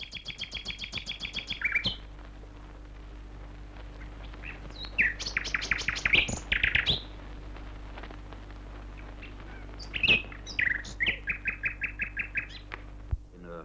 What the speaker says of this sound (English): The singing fame of the white-rumped shama